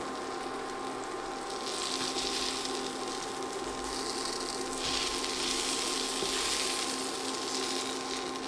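Peach cobbler French toast fries gently in a pan, a steady close-up hiss of sizzling that swells and eases slightly, with no voices.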